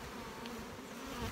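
A steady hum of honeybees buzzing, close and continuous, with a low droning tone throughout and no voices.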